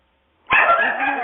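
A dog lets out a sudden loud bark that trails into yelping whines, heard close and alone.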